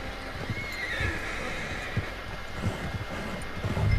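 A horse in the video game Red Dead Redemption 2 whinnies loudly and steadily, with soft hoof clip-clops thudding underneath and no talking.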